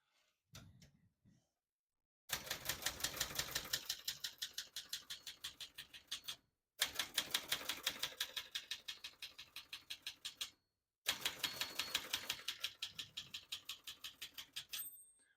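Rapid, evenly spaced clacking of the keys of a 1978 Brother Webster XL-500 portable manual typewriter in three long runs, separated by brief pauses, close and crisp.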